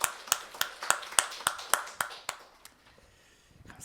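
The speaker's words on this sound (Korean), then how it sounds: "우리 하나님께 영광의 박수 올려줍시다" A church congregation claps at a Sunday morning service, a run of sharp, evenly spaced claps that grows sparse and fades to quiet near the end.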